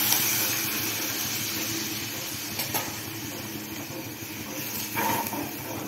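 Toor dal poured into hot fried masala sets off a loud, continuous sizzling hiss that eases slightly and then swells again near the end.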